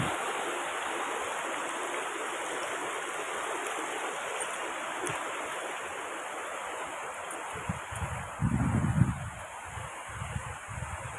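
Water rushing over Lawara Falls, a steady broadband roar heard close and continuous, with a few low thumps and rumbles from handling near the end.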